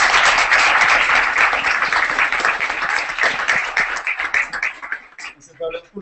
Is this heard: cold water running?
no